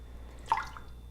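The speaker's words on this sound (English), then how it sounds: "I added just a little bit of room temperature water to make 100 grams" A small pour of room temperature water into egg whites for macarons lands as a single soft drip, brief and faint, in a quiet kitchen.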